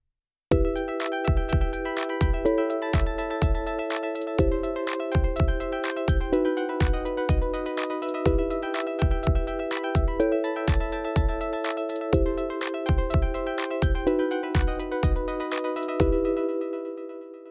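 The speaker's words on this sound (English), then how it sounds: "I live recorded an ARP into the ARP track, added some delay" A synth arpeggio recorded on an OP-Z cycles through chord notes in a steady, bright pattern, each note trailing delay echoes. The pattern repeats for the whole passage, then rings out.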